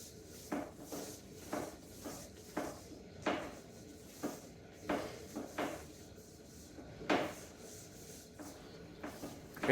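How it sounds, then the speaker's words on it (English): Paint roller worked across the inside of a wooden cabinet door, giving soft repeated rubbing strokes in an uneven rhythm, close up and fairly quiet, with no talking. "I first start off by rolling the inside of each door to get all the excess paint off"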